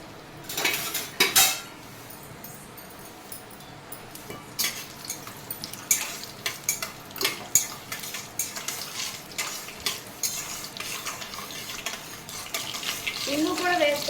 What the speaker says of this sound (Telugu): ఇప్పుడు ఇందులో పోపు వేసుకోవాలి